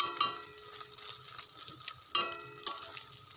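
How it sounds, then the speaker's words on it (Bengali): An egg with onion and green chili fries in a pan and is turned over, with a soft steady sizzle and a few sharp clinks of the spatula against the pan. "এই যে ডিমটা ভালোভাবে ভেজে নিচ্ছি উল্টো পাল্টে।"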